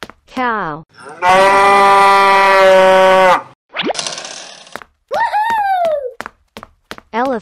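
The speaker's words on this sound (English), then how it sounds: "Cow." A cartoonish cow moo rings out loud and sustained in the middle, amid other brief silly animal calls and springy boing effects in a comic animal-transformation sequence.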